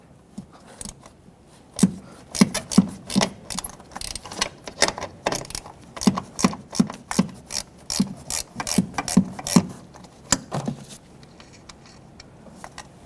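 A hand ratchet clicks in quick repeated bursts, pausing between strokes, as 12mm nuts holding the master cylinder to the brake booster are loosened on a 2006-2010 Hyundai Sonata, close and clear with no talking.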